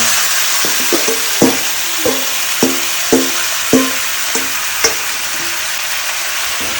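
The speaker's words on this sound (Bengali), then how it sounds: "হালকা করে একটুখানি আমি নাড়াচাড়া করে নেবো" Ground spice paste is stirred in a hot pan, with a steady close sizzle and a string of rhythmic spoon scrapes and taps. No voices can be heard.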